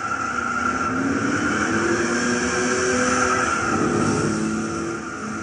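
A 1970 Dodge Charger 440 R/T in Gran Turismo 6 races around Tsukuba, with a sustained engine drone and tire squeal carrying loud and unbroken throughout, and no talking.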